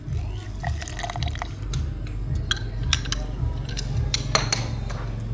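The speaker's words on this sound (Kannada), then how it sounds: "ಈಗ ಐಸಿನ ತುಂಡುಗಳನ್ನು ಸೇರಿಸಲಾಗುತ್ತಿದೆ" Ice cubes drop into a glass of fresh mint mojito with squeezed lemon juice, giving a scatter of bright clinks and clatters over a steady low background hum.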